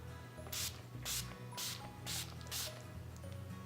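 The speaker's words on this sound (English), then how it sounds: "So I'm using my Urban Decay All Nighter setting spray, and I'm setting my face." Five quick hissing bursts of Urban Decay All Nighter setting spray onto a face, evenly spaced and close, against a faint steady background hum.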